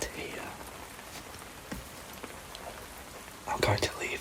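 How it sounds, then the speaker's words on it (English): Steady rain falls on a night scene, a soft continuous patter with a few sharper drops and a brief louder burst near the end. "I'm going to leave you with the sound of the rain to help you to fall asleep"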